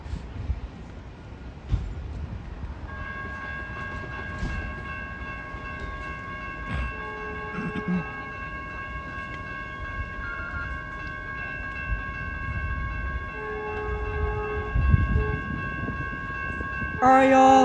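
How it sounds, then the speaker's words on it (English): Caltrain 146, a southbound local commuter train, arrives at Menlo Park station with a long sustained horn blast over the rumble of the approaching train, while voices talk nearby. "here comes Caltrain 146. This is a southbound local train making all stops to Diridon station in San Jose."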